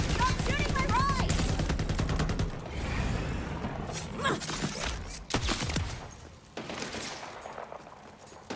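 Video game gunfire in Borderlands 4, heavy rapid bursts of shooting mixed with mechanical clanks and creaks, loud and busy throughout with short breaks.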